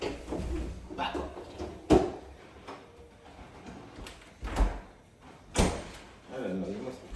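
A refrigerator door in a home kitchen opens and shuts, giving a few sharp thumps and knocks spread through the moment, with a low background murmur of household noise.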